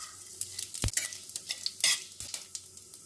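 Dried red chili and panch phoron frying in mustard oil in a kadai, a soft steady sizzle with sharp spoon scrapes and taps against the metal, quiet and close.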